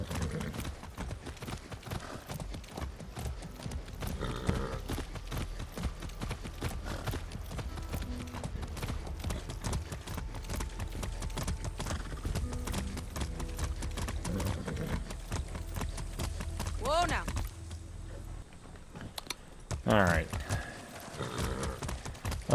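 Steady clip-clop of a horse's hooves while riding in the video game Far Cry 6, an even rhythmic trot running throughout with occasional snorts and game ambience, with someone talking over it at times.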